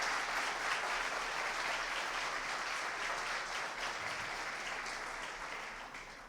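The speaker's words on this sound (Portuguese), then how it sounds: "por favor, uma salva de palmas para vocês" Sustained audience applause rolls on as a dense, loud wash of clapping from a full room, tapering slightly in the final seconds.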